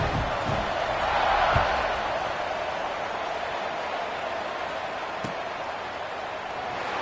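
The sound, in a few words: football stadium crowd cheering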